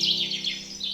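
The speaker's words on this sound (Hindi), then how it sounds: "सारे बर्ड्स की चहचहाने की आवाज" Birds chirp at Damdama lake, a bright, continuous high twittering that stays fairly close and clear for a brief moment.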